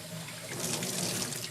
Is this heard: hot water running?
yes